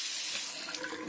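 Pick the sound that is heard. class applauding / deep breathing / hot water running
hot water running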